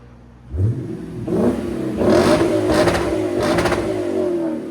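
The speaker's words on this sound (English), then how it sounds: "Go ahead, rev it." A 2008 Lexus IS F with a 5.0L V8 and muffler delete starts up and revs repeatedly, loud, close exhaust blasts rising and holding over a rumbling idle.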